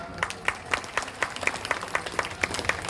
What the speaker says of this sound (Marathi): रोजचे वाचक सूचक श्रोतेजन सर्वांसाठी एकदा जोरदार टाळ्या वाजवा